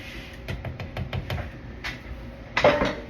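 Hamburger meat stirred in a pan with a metal utensil, making a series of close, rhythmic scraping taps against the pan, ending in a louder clatter.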